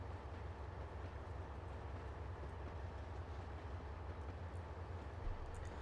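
An AI train in Trainz Simulator 2 rolls through a station at a 25 mph limit, giving a steady low rumble with faint wheel clatter that stays even and moderately close.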